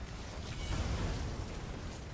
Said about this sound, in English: That's his explosion.